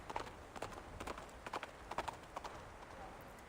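Horse in the video game Reverse: 1999 galloping away, hoofbeats clopping in a quick uneven rhythm that fades as the animal recedes.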